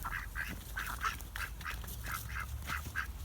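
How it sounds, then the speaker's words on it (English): Indian runner ducks on a farm in Luxembourg quack in a rapid, fairly steady series of short nasal calls, a dozen or so within a few seconds, over low outdoor background noise. "with Indian runner ducks,"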